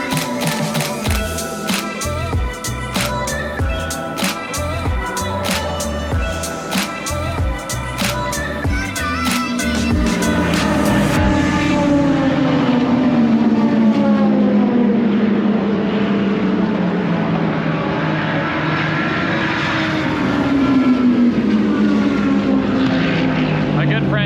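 Race cars pass trackside at the Rolex 24 endurance race, with rapid repeated clicks up front, then a loud engine roar sweeping by, its pitch rising and falling, followed by another approaching car.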